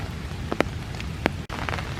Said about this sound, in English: So you can see it's raining.